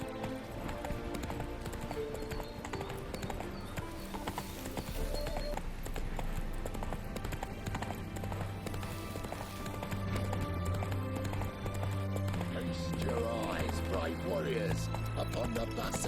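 A horse's hooves clip-clopping at a gallop in the video game The Witcher 3, rhythmic and steady under a dense layer of game music and ambience, with talk present.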